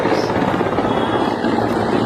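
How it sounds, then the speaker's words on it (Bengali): A helicopter passes over a crowd at the Prime Minister's rally in Kaliabor, Nagaon district, Assam, its rotors making a loud, steady, close drone that fills the whole moment. "হেলিকপ্টার দিয়ে"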